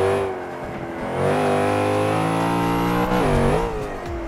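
A Plymouth Cuda Hemi in Forza 5 holds a loud, steady engine drone that rises as it accelerates and shifts pitch near the end, close and continuous with no talk.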